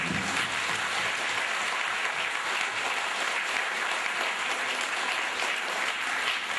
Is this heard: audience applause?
yes